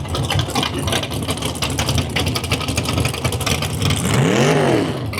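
A loud car engine revs hard at a race event, close and sustained, with a rising and falling engine sweep near the end.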